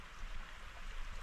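Glacier meltwater pours over a waterfall into a lake, heard as a soft, distant, steady broadband rush.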